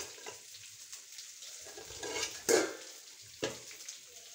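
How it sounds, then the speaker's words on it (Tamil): Dal is tempered in hot oil with a quiet, steady sizzling hiss, broken by a couple of sharper spoon or pan knocks, heard close with no talking. "இப்போ நம்ம இந்த பருப்பை வந்து தாளிச்சிடும்"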